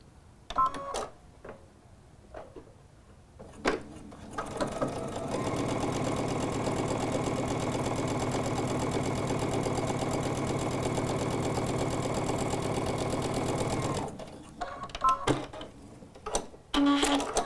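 A sewing machine stitching a quilt, running steadily and close for about eight seconds with a fast mechanical whir, framed by brief handling clicks and fabric rustles before and after.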